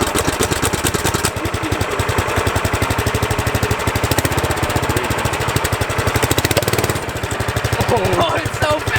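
A 420cc engine on an offroad go kart runs with a loud, rapid, evenly pulsing chug close by, changing pitch slightly as it revs and continuing throughout.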